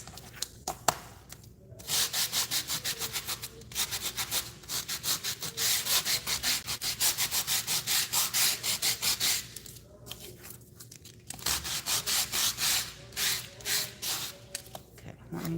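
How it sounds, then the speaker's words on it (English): Sandpaper rubs back and forth across the raised surface of an embossed painted piece, taking paint off in quick rhythmic rasping strokes that come in bursts with short pauses, close and loud. "So all I'm doing is sanding the paint off of the raised surface."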